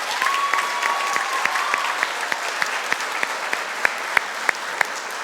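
A school audience claps for a middle school orchestra at a Veterans Day program, a dense steady applause with a few sharper, closer claps standing out toward the end.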